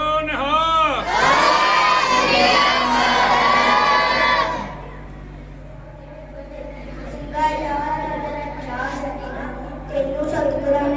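A crowd at a Sikh martyrdom-day turban and gatka competition roars the jaikara response, a loud sustained collective shout lasting several seconds, then fading into a single voice continuing near the microphone.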